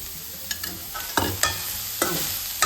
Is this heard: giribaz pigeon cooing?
no